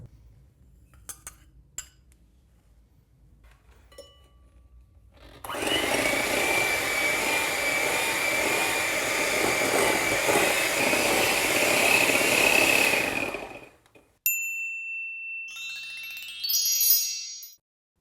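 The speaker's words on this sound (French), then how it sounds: "fouettez-le ensuite avec le reste du sucre dans un autre saladier jusqu'à ce que le mélange blanchisse" An electric whisk whirs loudly and steadily for several seconds as melted butter is beaten with sugar in a mixing bowl, then stops, followed by light clinks of metal against the bowl.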